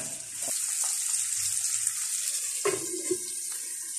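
Onions dropped into hot oil in a pan for hotel-style aloo baingan: a steady, bright sizzling hiss throughout, with a few soft clunks of utensils against the pan.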